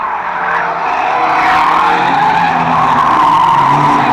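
Race cars at Fleet Raceway skid on the track with a loud, sustained tire squeal over roaring engines, the screeching noise swelling slightly as it carries on without pause.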